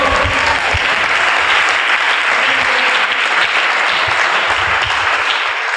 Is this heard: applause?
yes